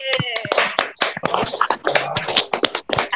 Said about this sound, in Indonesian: tepuk tangan buat kita semua yang sudah setia di tahun 2020 ini.